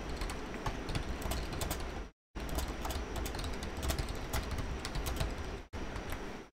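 Steady typing on a computer keyboard, rapid close keystrokes clattering almost continuously, with two brief silent gaps.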